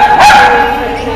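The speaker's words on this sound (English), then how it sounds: "No, no barking!" A small dog at a doggie day care lets out a single short, high yip near the start, close and fairly loud, followed by fading room noise.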